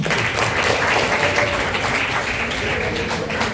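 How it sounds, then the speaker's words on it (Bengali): An audience at a certificate distribution ceremony for an international conference bursts into sustained applause, a dense, loud wash of clapping from many hands holding steady throughout. "এই জন্য তোমাদেরকে একটা তালি হবে।"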